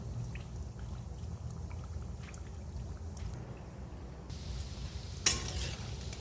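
Sweet pitha dumplings frying gently in oil, flavoured with cardamom, as a soft low bubbling and faint sizzle with a brief clatter near the end; quiet and without speech.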